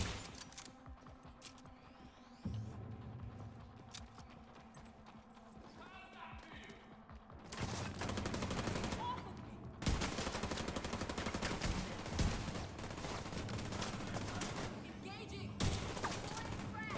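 Gunfire in the video game The Division 2, bursts of rapid shots and clattering effects that swell louder midway, with a player talking over the action.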